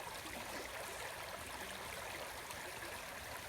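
Water in a beck flows steadily over an eroded bank, a constant close rushing wash with no pauses and no voices.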